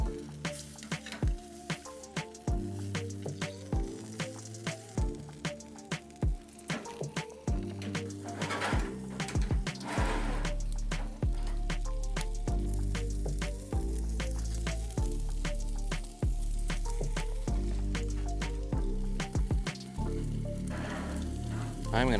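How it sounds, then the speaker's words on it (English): Steaks searing on a Big Horn Outdoors infrared grill, a steady close sizzle running throughout with scattered crackles, quiet music-like tones and faint background noise, no clear talking. "Getting some beautiful searing on this."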